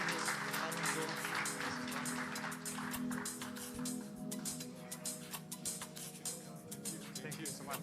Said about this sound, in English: Love you cheering.